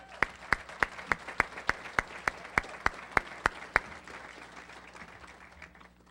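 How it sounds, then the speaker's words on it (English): Audience at a chamber of commerce annual dinner claps in a steady rhythm, with sharp, evenly spaced loud claps standing out over a softer crowd background, then the rhythm stops and the applause fades away. "Let's give them a round of applause."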